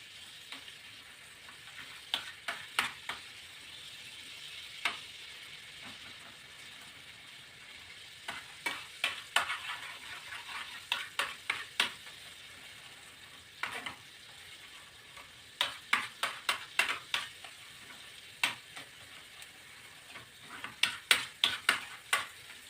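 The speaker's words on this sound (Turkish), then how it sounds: "Şimdi üzerine bir yemek kaşığı salça ekliyorum ve bunu da güzelce kavuracağım." Tomato paste stirred and sautéed in a pan while making Çorum-style mantı, with a soft steady sizzle under bursts of spoon scraping and clicking against the pan, alone with no talk.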